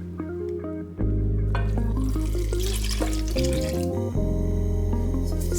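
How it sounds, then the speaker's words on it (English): Tap water gushes steadily into a soup pot for potato leek soup, starting with a few drips then a loud continuous pour that shifts in tone as the pot fills. "Add 7 cups of water and turn heat to high."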